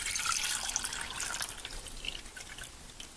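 White liquid is poured into a cooking pot, a faint, near trickle and splash that tapers off over a few seconds, with no talking.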